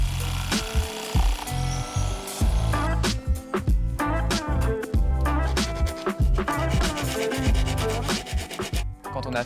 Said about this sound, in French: on utilise la scie sauteuse pour cela